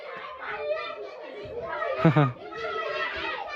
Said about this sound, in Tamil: பசங்க கத்துற அந்த சத்தம்லாம் கேட்குது